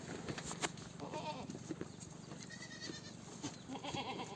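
A goat bleats a few times, faint and somewhat distant, over a low farmyard background with no talking.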